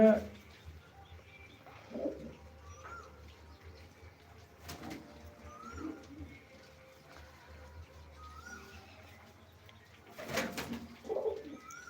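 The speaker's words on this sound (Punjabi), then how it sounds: "ਪੰਜ ਕਬੂਤਰ ਅੰਦਰ ਆ ਗਏ" Pigeons coo in soft, scattered calls, fairly faint against a quiet background, with a few rustles and a brief voice.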